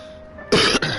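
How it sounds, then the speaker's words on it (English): A single throat clearing, loud and close, made by a man during an online poker cash game, two rough bursts with a brief break between them, alone with no talk. "I had to clear my throat."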